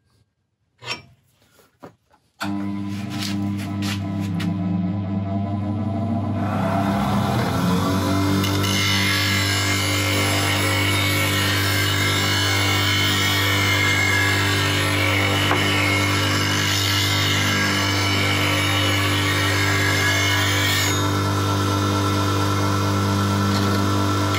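A new bench grinder spins up after a few sharp knocks, then holds a steady whine and hum as a woodturning tool in a holder is passed side to side across the wheel for a standard grind.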